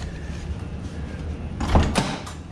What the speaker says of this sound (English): You gotta rock the door to get it open